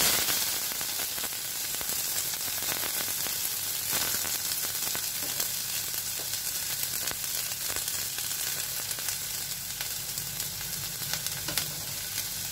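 Onions frying in oil with fennel seeds for paruppu urundai kuzhambu, a dense, loud, continuous sizzle with occasional stirring clicks, close and unbroken by speech.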